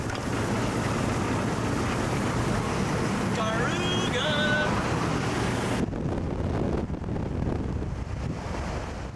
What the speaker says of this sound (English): And it looks like Krishna driving her dad's Vanagon.